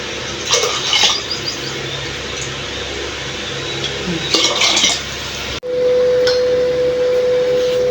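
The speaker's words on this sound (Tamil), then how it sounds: "அதனால் இதுக்கு 2 டம்ளர் தண்ணி ஊற்றிடலாம்." Two tumblers of water poured into a cooking pot of dal: splashy pouring and a clink of vessels, a short pause, then a steady, even stream of water running into the pot.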